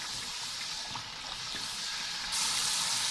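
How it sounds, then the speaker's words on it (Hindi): Spice masala frying in oil for matar pulao, a steady close sizzle throughout that grows brighter and louder for the last second, with no talking. "मसाला अच्छे से भून रहा है"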